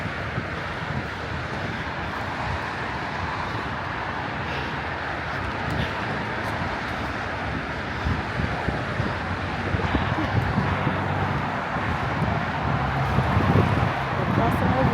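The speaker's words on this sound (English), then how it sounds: "I should say windy." Wind gusts buffet the microphone outdoors in an open sculpture garden near a highway, a constant broadband rushing roar that builds a little louder toward the end, with faint traffic underneath.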